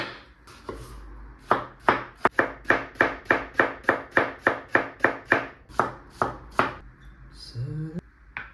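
A knife chops garlic leeks on a cutting board in about twenty crisp, evenly spaced strokes, close and distinct, with a brief pause partway and a few irregular taps at the end.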